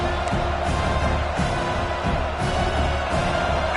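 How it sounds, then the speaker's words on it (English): A college football stadium crowd roars steadily in a broad, sustained wash of cheering, with pulsing swells as fans try to rally the defense; no talk rises above the noise. "this crowd coming to life here, trying to help the defense get a stop"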